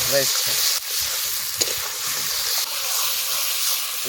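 Spices sauté in a pan for a desi chicken egg curry, giving a steady, fairly soft sizzle with a few brief stirring clicks and scrapes throughout.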